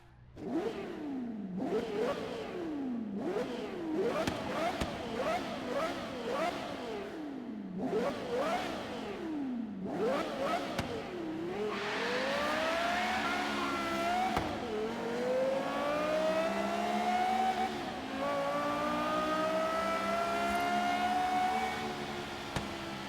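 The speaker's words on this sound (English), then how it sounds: "for our 12-cylinder car, it is the Aston Martin Vulcan 2016" A 2016 Aston Martin Vulcan V12 in Forza Horizon 3 revs hard in rapid sweeping bursts, then settles into a sustained high-pitched wail as it accelerates through the gears, loud and close.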